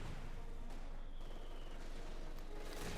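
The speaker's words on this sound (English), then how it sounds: "Incendiary artillery there being unleashed upon the mortar emplacement." Rumbling incendiary artillery barrage striking a mortar emplacement in Company of Heroes 2, a faint, steady wash of distant blasts and crackling fire with a few sharper bursts.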